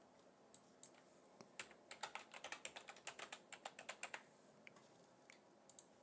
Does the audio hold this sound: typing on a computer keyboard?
yes